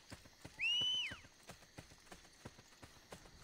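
A horse's hooves clip-clop at a steady trot in Assassin's Creed Brotherhood, evenly spaced and fairly close, with one loud whinny rising over the hoofbeats near the start.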